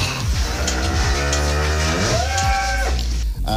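Dairy cows on a dairy farm moo loudly and close, with several long, drawn-out calls that overlap over a steady low background rumble.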